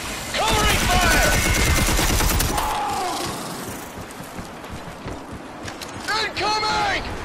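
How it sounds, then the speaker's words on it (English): Rapid gunfire in the shooter game Red Faction: Armageddon, bursts of automatic shots crackling close and loud through most of the clip, with shouted voices mixed in. "Covering fire!"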